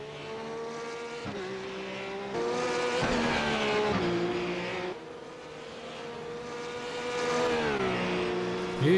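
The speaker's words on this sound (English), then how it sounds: "Here you can really see the speed of these cars on the main straight" Race cars scream along the main straight at the Road Atlanta circuit, loud high-revving engines rising and falling with gear changes and passing cars, no talk.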